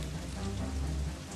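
Steady rain falls in a dense, even hiss with a low rumble beneath, continuous and fairly loud, with no voices.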